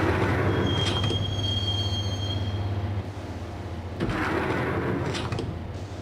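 A subway train rides along in Max Payne, rumbling steadily with a thin high wheel squeal early on and sharp metallic clanks around the middle and near the end, with no talk.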